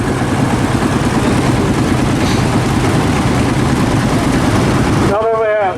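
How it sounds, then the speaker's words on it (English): A diesel Ferguson 135 tractor engine runs steadily with a low, throbbing idle at a historic vehicle rally, loud and close throughout before cutting off abruptly at the end. "It's the diesel engine, of course, a 135"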